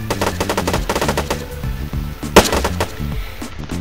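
Rapid automatic gunfire from the military game Arma 3, loud bursts of repeated shots in quick rhythm with a sharper crack near the middle, no talking.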